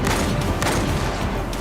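A sniper rifle shot in a shooting video game, heard as a loud, dense burst of gunfire and booms filling the whole short moment.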